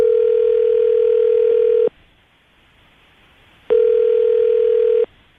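A telephone line gives two long, steady dial-tone beeps separated by a short silent gap as a call to a dating contestant is placed, each tone loud and clean with no voices over it.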